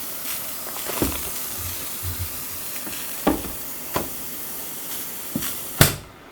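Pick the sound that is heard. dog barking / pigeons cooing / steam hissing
steam hissing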